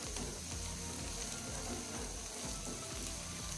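Soft, continuous sizzle of onions frying in a pan for fish curry, a faint, steady hiss with light crackles throughout and no voices.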